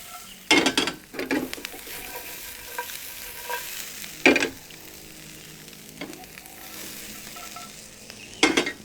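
Nuts toast in a frying pan with a soft, steady sizzle, broken by several sharp scraping bursts as they are stirred.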